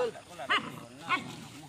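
A dog gives two short barks about half a second apart, close by, while people talk around it.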